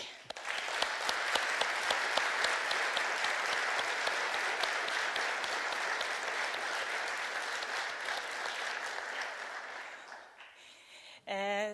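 Sustained audience applause at a human rights conference, dense and even for about ten seconds before fading out, followed by a brief voice.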